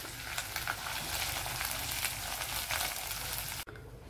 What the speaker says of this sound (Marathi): हे सगळे मसाले आपण मिक्स करत आहोत।